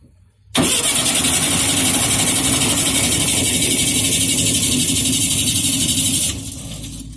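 Volkswagen Kombi engine, left sitting for two years, cranks and runs loudly and steadily for about six seconds after a sudden start, then drops to a softer, lower level near the end, with no talk.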